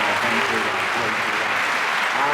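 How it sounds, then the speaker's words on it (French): A church congregation at a French healing retreat applauds steadily, the dense clapping filling the space evenly from start to finish. "Let's give an applause."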